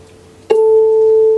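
A tuning fork is struck with a short metallic tap, then rings a pure, steady 440 Hz tone with a faint higher overtone, sustained and clear with no other sound.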